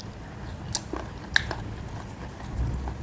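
Close, moist chewing and biting while eating mushroom curry with rice, a few distinct crunchy bites standing out over soft, steady mastication noises.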